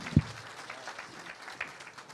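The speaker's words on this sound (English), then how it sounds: "Round of applause for her again." Audience at a teacher-of-the-year award gala applauding an honoured teacher, fairly faint and distant scattered clapping with one sharp near thump early on, a thin crowd texture throughout.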